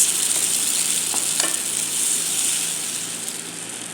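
Chopped tomato frying in a hot pan with onion for a Filipino vegetable dish, a steady close hiss of sizzling oil with a couple of faint stirring clicks and no talking.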